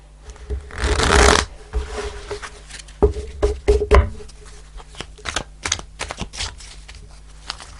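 Tarot cards are shuffled in a loud riffling burst, then tapped and squared with a series of sharp, irregular clicks and flicks close by.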